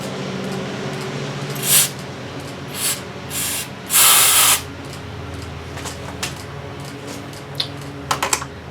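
Aerosol fluid sprayed into the carburetor of an Evinrude or Johnson outboard motor, in several short hissing bursts with a longer spray near the middle, close and fairly loud against a quiet background, no one talking.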